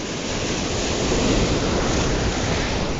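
Sea waves break and wash continuously onto the shore at a fishing spot, loud and close with a broad hissing roar and wind buffeting, with no voices.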